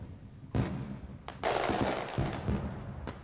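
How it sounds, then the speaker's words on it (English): Fireworks burst in a night sky in the visual novel Irotoridori no Sekai, a sharp opening bang followed by a run of loud crackling explosions and pops with no voices. "The first firework then explodes brightly in the night sky."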